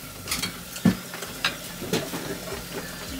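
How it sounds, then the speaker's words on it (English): Small cakes fry in melted butter in a pan, giving a soft sizzle with a few sharp stirring and pan clicks near the mic. "Frying up the little cakes."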